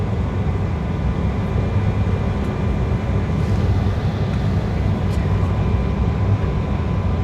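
A steady low airliner engine drone during pushback fills the whole stretch, a constant deep rumble with a faint whine above it, loud and unbroken.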